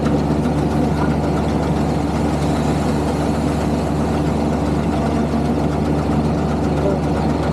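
A rice threshing machine engine on a Yanmar combine harvester runs steadily, a loud, unbroken rumbling drone heard up close with no pauses.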